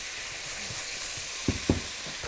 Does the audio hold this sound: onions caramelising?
yes